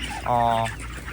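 Broiler chickens in a poultry house give a single short, close clucking call that stands alone for about a second.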